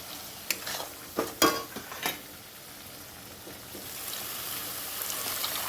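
Water is poured into a pan of bele fish curry with turmeric and salt: a few sharp clatters first, then a rising, steady rush of hissing and sizzling that carries on to the end.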